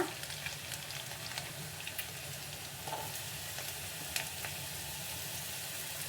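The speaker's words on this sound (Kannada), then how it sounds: "ಸ್ವಲ್ಪ ಹೈ ಫ್ಲೇಮಲ್ಲಿ ಇಟ್ಕೊಂಡು ಇದು ಗೋಲ್ಡನ್ ಬ್ರೌನ್ ಬರೋವರೆಗೂ ಈರುಳ್ಳಿನ ಚೆನ್ನಾಗಿ ಎಣ್ಣೆಯಲ್ಲಿ ಬಾಡಿಸ್ಕೊಳ್ಳಿ" Onion and green chillies fry in oil over a high flame, making a soft, continuous sizzle with occasional light stirring clicks.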